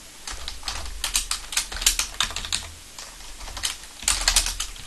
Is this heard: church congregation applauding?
no